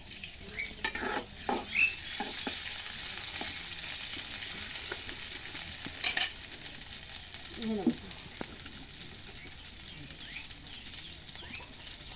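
Oil sizzles steadily in a pan while soy chunks and potatoes are fried and stirred, a faint continuous hiss with occasional scrapes and clinks of the spoon.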